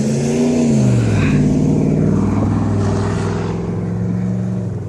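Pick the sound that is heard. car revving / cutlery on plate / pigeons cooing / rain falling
car revving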